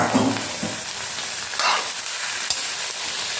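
Boiled potatoes sizzle steadily in hot oil with onions while a utensil scrapes and stirs them around the pan, with a sharp clink partway through.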